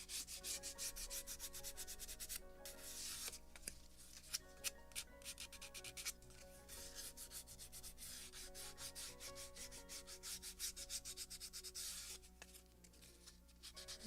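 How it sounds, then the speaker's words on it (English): A Scotch-Brite pad rubs back and forth over the wooden deck of a Model Shipways gunboat Philadelphia (1776) kit, giving soft, quiet scratchy strokes in an irregular rhythm. "And polishing with a Scotch Brite."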